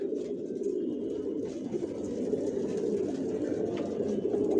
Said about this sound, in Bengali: কোয়ালিটি সম্পন্ন কবুতর, অরিজিনাল রেসার